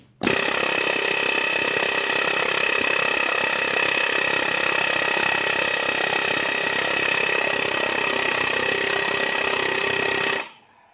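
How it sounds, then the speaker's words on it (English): A pneumatic air hammer runs continuously for about ten seconds, a loud, close, buzzing rattle at steady intensity that starts and stops abruptly, no voices. "I'm trying to push all my weight back at this air hammer to help it push out"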